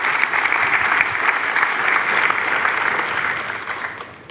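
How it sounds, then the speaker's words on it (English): Sustained, dense applause from a conference audience at a climate change policy event, loud and even throughout, fading slightly toward the end. "That's worth a round of applause."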